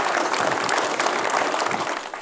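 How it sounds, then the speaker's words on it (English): A community gathering honouring returning soldiers gives a round of applause, steady dense clapping filling a little over two seconds at moderate loudness. "Round of applause."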